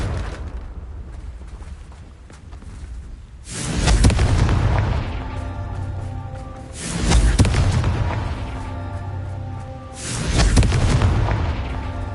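Spell explosions from a Hogwarts wizarding video game: three deep booming blasts spaced a few seconds apart, each swelling loudly and then fading into a rumbling tail.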